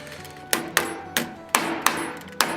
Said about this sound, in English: go in with the ball peen after I've got a couple of blows with the flat